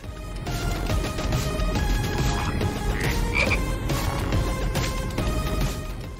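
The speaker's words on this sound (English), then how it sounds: "That's a big fucking frog." Frogs croak loudly and steadily in Final Fantasy 7 Rebirth, a dense chorus of repeated croaks filling the scene over ambient game sound throughout.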